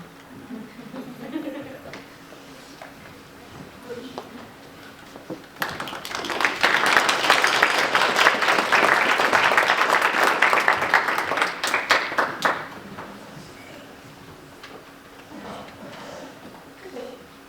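Audience applause at a madrigal dinner concert in East Peoria swells from a quiet room, holds steady and fairly loud for several seconds, then fades back to murmuring and faint talk.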